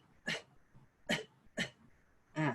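Four short, soft coughs spaced about half a second apart, close and quiet with near silence between them, during a voice breathing exercise.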